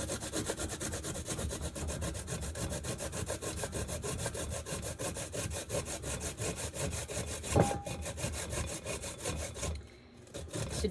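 Steady, rapid rasping of an ingredient being grated for vegan lentil burgers continues for about ten seconds, close and even, with one brief sharp knock near the end.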